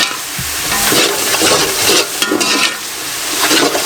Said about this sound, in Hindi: इसको अच्छे तरीके से भून लूँगी